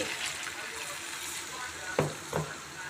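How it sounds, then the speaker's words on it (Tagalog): Water, about one glass, poured into a cooking pot on a stove, a soft sizzling splash under a steady background hiss, followed by two brief clinks near the end. "lagyan natin ng tubig, isang baso"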